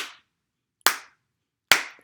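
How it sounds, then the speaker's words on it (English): Three crisp hand claps spaced evenly, close and alone, keeping time for a children's hello song. "Can you clap with me?"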